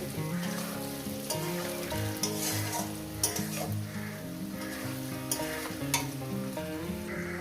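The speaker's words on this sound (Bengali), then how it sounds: "আলুটা দিয়ে আমি সুন্দর করে ভেজে নিয়েছি" Potatoes fry in a pan for paneer posto, a steady crackling sizzle with occasional stirring knocks, set under soft instrumental music.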